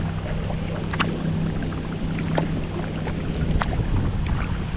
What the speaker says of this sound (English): And we got a second motorboat coming up.